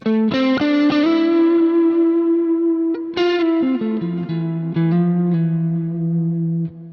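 An electric guitar through a Quad Cortex plate reverb preset plays sustained, overdriven notes with a lush reverb tail, phrases gliding between pitches and ringing out into ambient space.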